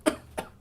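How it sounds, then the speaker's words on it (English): A deliberate fake cough from a stand-up comedian on stage, used to stall: two short, sharp coughs close to the microphone, the first louder, the second softer, with no talking. "That wasn't a real cough. That was a BS cough. That was a cough to stall."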